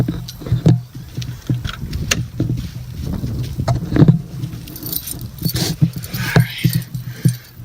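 Close Toyota MR2 keys jangle and clink irregularly in a loose bunch, with light handling rattles throughout.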